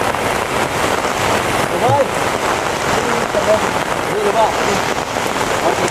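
Rain pours steadily onto surfaces close by, a dense constant patter, with a few faint chirps and distant voices underneath.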